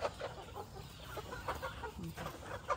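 Laying pullets, a flock of about 150 young hens, clucking and murmuring during their first feeding, a steady busy chatter of soft clucks with a few sharper calls, moderately close and heard alone.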